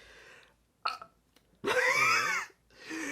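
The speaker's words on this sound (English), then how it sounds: "I belch up gas with mucus" A person belches up gas with mucus in a long, wet, close burp, preceded by a short throat sound and followed by a softer trailing breath.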